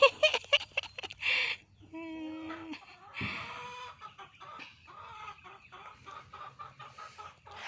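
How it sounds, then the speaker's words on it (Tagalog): Chickens clucking close by in uneven bursts, with squawks and a drawn-out call mixed in, while a person talks between and over them. "Halina kayo, mga chicken. Let's eat na."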